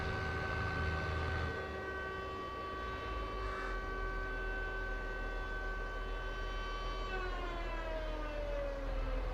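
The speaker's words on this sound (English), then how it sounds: "guys hear the air raid siren?" An air raid siren in Farming Simulator 22 wails steadily with a long sustained tone that slowly bends near the end, heard over a continuous low rumble.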